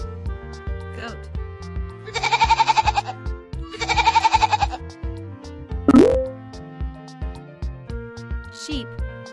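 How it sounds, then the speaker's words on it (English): Goat bleating in two loud, close, quavering calls, each about a second long, set over a bouncy children's music backing with a plopping sound effect. "Goat."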